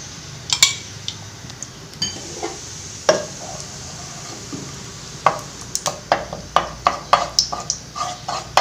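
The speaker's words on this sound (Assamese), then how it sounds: "তাত মই ঘি দি দিছোঁ" Spoon clinks against a hot wok as two spoonfuls of ghee go in while making pera milk sweet, a run of sharp metallic taps and scrapes, sparse at first then quickening, close and moderately loud with no talking.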